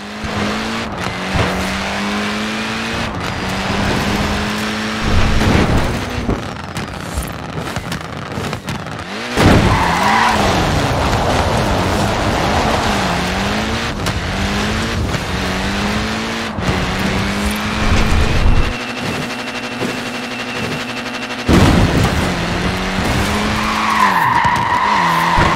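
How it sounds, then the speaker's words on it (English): A short-wheelbase, front-wheel-drive car slides and skids in Forza Horizon 4, with loud continuous tyre squeal and a revving engine rising and falling throughout, sustained and close. "Short wheelbase, front wheel drive. It's really not an easy car to slide, this."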